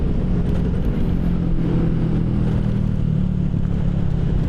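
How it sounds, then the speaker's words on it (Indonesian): A Ducati Monster motorcycle fitted with a Termignoni exhaust rumbles loud and close with a deep, steady engine drone and slight revving throughout, with no talk over it. "Ducati Monster knalpot Termit Noni"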